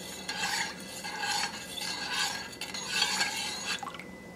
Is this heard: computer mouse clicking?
no